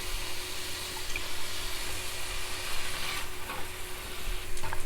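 Onions cooking in sunflower oil for a red kidney bean dish, a steady low sizzle with a faint hum and occasional light clinks, heard close and without voices.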